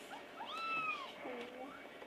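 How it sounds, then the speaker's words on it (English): A seven-week-old kitten gives a few soft, high meows close by, thin and rising-falling, and a quiet voice talks nearby. "Can I pet the kitty?"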